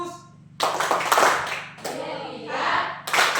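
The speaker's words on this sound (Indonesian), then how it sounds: "Tepuk fokus." A classroom of students performs a rhythmic clapping routine, bursts of hand claps in patterned groups separated by short pauses, close and loud, with voices chanting along between claps.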